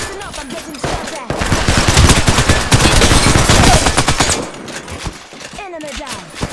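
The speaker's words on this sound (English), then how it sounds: "Listen up, I'm getting shot at." Rapid gunfire bursts in the battle royale game Apex Legends, loud and dense for several seconds with sharp clattering repeats, a voice speaking over parts of it.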